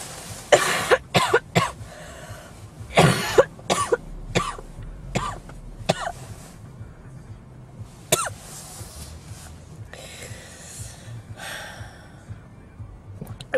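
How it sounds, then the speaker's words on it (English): A sick traveller lying on a bench at LAX airport coughs repeatedly, with harsh coughs, throat clearing and gasping, dry-heave gagging bursts, close and loud against quiet terminal background noise. "I'm at the stage of my sickness where all of my coughs turn into dry heaves and gagging."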